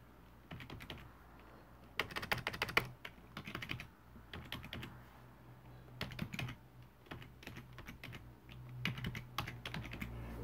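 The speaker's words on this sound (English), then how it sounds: "I'm going to type in the Wi-Fi." Keys on a wireless computer keyboard are tapped in quick, faint clusters of clicks while a Wi-Fi code is typed, with short pauses between bursts and no talking.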